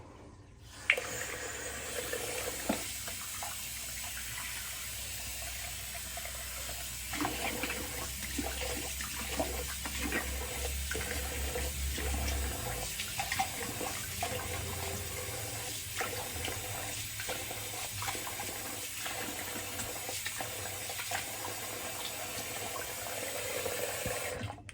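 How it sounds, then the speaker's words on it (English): Tap water runs steadily into and out of a bathroom sink as it drains after a face rinse during a wet shave, a continuous close hiss with faint gurgles and small clinks, no talking. "I'm gonna empty this sink too while I'm at it."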